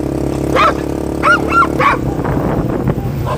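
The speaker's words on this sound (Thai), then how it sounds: "นี่ก็สุนัขของคนข้างบ้านค่ะเพื่อนบ้านค่ะ" A neighbor's dog barks several times in short, sharp yips and woofs, fairly close, over a steady low rumble of an ATV engine idling outdoors on a rural road.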